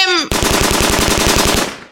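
Cartoon machine-gun fire rattles out in a rapid, loud, evenly spaced burst of roughly a dozen shots, after a short descending tone, in an animated Nagraj action scene.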